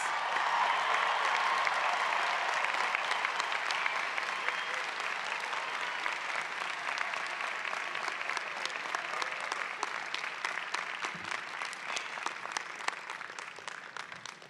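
Sustained applause from a large commencement audience at NC State for the student speaker, a continuous dense roar of clapping, somewhat distant, with faint crowd murmur and a slight fade toward the end.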